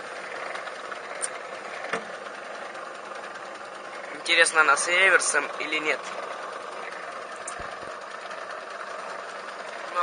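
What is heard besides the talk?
1992 Feya 2 washing machine motor running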